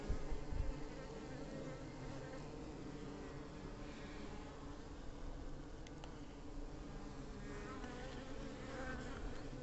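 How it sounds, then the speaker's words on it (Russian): Many honey bees swarm around a hive, making a dense, continuous buzzing hum that stays close and steady throughout with no talking. "Пчел много очень."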